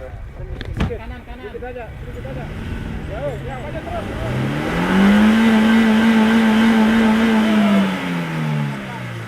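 A stuck car's engine turns over and starts, then revs, rising into a steady loud drone that eases off; people talk over the opening seconds.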